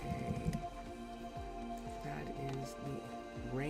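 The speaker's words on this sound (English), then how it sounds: "the rain coming in" Steady Minecraft rain hisses softly and continuously in the background while someone talks over it throughout.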